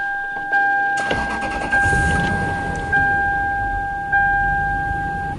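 A Lexus LS430 engine cranks over and catches, settling into a steady idle, with a couple of brief revs and a constant high electronic chime running throughout.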